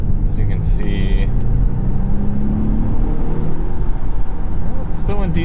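A 2021 Volvo XC60 T8 Polestar, its 2-liter turbo hybrid engine paired with an electric motor, hums and whirs steadily from inside the cabin while accelerating, under continuous talking.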